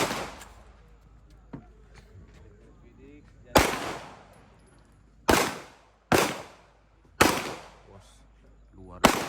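Pistol shots ring out at an outdoor target-shooting session held by a regional police chief, five loud, sharp reports with echoing tails spaced about a second apart, after a faint distant pop and some low background murmur.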